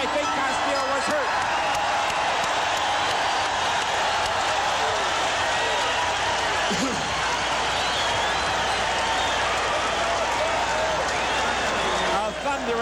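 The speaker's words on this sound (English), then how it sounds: "A thunderous ovation from this crowd" A boxing arena crowd roars and applauds in a dense, loud, unbroken wash of clapping and cheering, with voices talking over the din.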